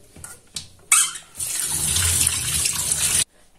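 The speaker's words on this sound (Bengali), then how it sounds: "এখন একটি ছাঁকনিতে করে নরমাল পানি দিয়ে ধুয়ে নেব।" Boiled pasta and vegetables rinsed in a strainer under running tap water: a few short splashes, then a steady close gush of water that stops abruptly.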